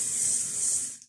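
A can of Moisture Bomb Protect Anti-UV SPF 30 sunscreen sprays in one steady, close hiss of about a second, then cuts off abruptly into quiet.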